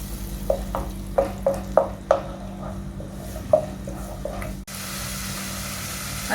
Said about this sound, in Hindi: अब इसमें हम लहसुन का पेस्ट डाल देंगे और इसको तेल के साथ थोड़ा भून लेंगे।